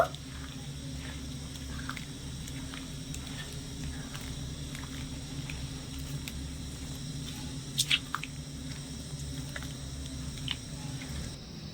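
Raw mango pieces with bay leaf, fennel seeds and salt are stirred in a pan for chutney, making soft wet squishing and light pattering scrapes, with a couple of sharper clicks near the end.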